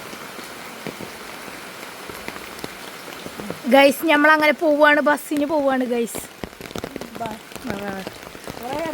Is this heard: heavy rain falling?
yes